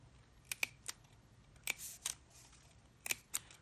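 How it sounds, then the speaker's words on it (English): Scissors making small snips on either side of a mark while crafting a rotating distress ink holder, several sharp crisp clicks in short clusters, close and quiet with no talk. "you're going to take your scissors and you're going to snip on either side of that mark"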